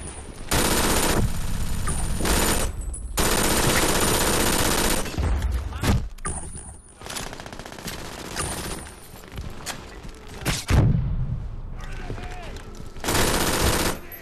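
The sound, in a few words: turret firing in the video game Brink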